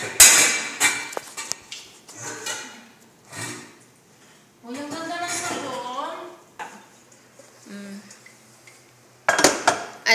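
Dishes and plates clatter and clink in irregular bursts during washing, with people talking in between and a sharp cluster of clanks near the end.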